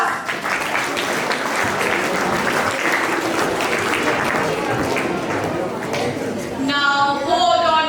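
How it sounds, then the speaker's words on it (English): An audience at a space science quiz competition gives the teams a loud, dense round of applause that stays steady throughout, and a brief electronic jingle begins at the very end. "Please give a big round of applause."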